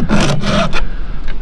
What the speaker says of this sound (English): every other time I sharpen this chain, I flip the bar over.